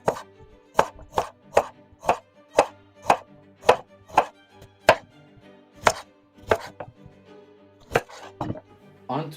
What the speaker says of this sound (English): We are going to start with cutting up the carrots.